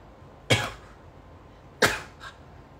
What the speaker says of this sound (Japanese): くしゃみです